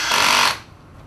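Power driver whirs briefly at high torque, driving a self-tapping screw into pre-drilled aluminium on a chassis bracket, one loud close burst that cuts off abruptly.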